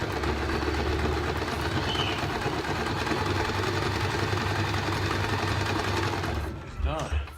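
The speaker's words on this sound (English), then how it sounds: "So I stitch on the first top layer in a zigzag stitch." Sewing machine running steadily and loud through a zigzag stitch on the top layer of a custom piece, a continuous mechanical whir that stops abruptly near the end.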